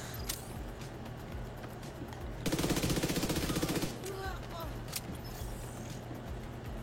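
Rapid automatic gunfire from an SMG and shotguns in a video game: a loud, dense burst of a second and a half of quick shots over steady background game noise, with scattered single clicks and metallic sounds before and after.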